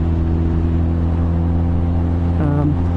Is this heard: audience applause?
no